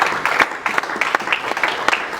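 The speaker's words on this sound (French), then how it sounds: "On peut juste applaudir pour les parents" An audience at a church youth launch concert claps for the parents, a steady patter of hand claps from a moderate crowd that stays even and continuous throughout.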